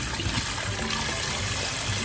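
Udon noodles being rinsed under a running kitchen tap during home cooking of curry udon, a steady, close, even rush of water with no break and no talking.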